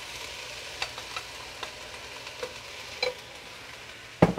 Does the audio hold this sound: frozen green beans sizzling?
yes